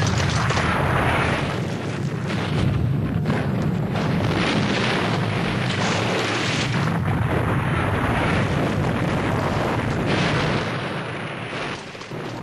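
World War I trench warfare shelling, a dense continuous roar of artillery fire and explosions that stays loud and rumbling throughout and eases slightly near the end.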